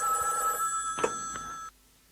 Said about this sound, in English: He soon dozed off, but was awakened when his phone rang.